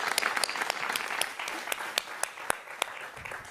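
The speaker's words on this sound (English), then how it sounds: "Let's give them applause." A live audience at a storytelling performance applauds, a dense close wash of clapping with a few louder individual claps standing out, steady throughout.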